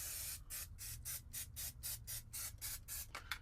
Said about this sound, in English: an unhealthy amount of spray